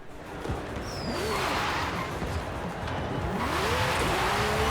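A 2021 Lamborghini Countach LPI 800-4 engine roars steadily, rising in pitch as it accelerates, with a faint tire squeal near the start.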